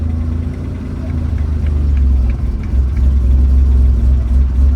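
A Noble M400 sports car idles close by with a deep, uneven rumble that swells slightly and holds steady for several seconds, loud and alone.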